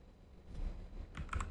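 Computer keyboard typing while writing Flutter code, a few soft key clicks early on, then a quicker cluster of sharper clacks near the end, fairly close against a quiet room.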